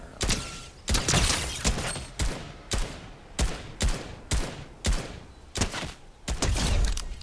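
Fortnite gunfire rings out in a rapid string of loud, sharp bursts, roughly a dozen shots in an uneven rhythm, close and punchy.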